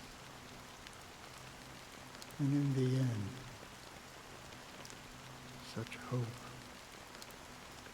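Steady rain patters softly throughout a scene in the video game Honkai Star Rail, set in Penacony, while a voice speaks over it partway through.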